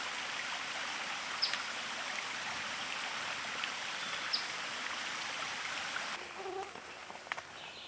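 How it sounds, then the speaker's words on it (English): Stream fed by a hillside spring below a trail, a faint steady rushing trickle of water throughout, with a couple of small clicks and light handling noise near the end. "You can see the stream below."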